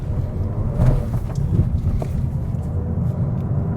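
A 2025 Mazda 3 Premium engine pulls hard past 4,000 RPM, heard from inside the cabin as a steady, loud low rumble mixed with road and wind noise.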